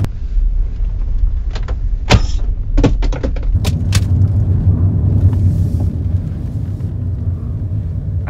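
A 2017 Mini Cooper taking a sharp corner without braking, with a steady low engine and road drone throughout and a few short clicks and knocks from inside the car.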